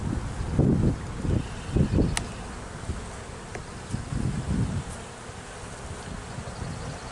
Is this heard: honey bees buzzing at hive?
yes